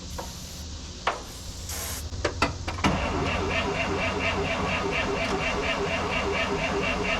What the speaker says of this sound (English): Luckily, the engine sounds healthy as of right now.